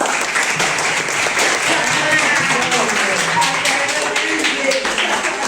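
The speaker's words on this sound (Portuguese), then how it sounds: "Essa é a equipe do 7º ano B, salva de palmas!" Applause and cheering from students for a seventh-grade school team at a state school podcast recording, a steady dense clapping wash lasting several seconds with voices mixed in.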